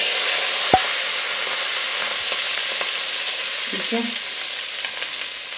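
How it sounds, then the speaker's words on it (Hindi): Hot tempering oil poured over methi palak dal gives a steady, even sizzle that hisses on throughout, with a brief clink near the start and a short spoken word. "इस बघार को गर्मा गर्म जो है आप तेल के ऊपर दाल के ऊपर डालते हैं।"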